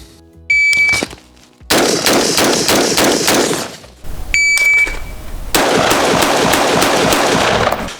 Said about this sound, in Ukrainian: здійснюємо 6 пострілів в мішені